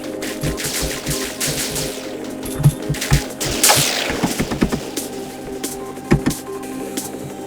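Rapid gunfire from the video game Viricide crackles in dense bursts, with repeated shots and impacts layered over a busy electronic game soundtrack.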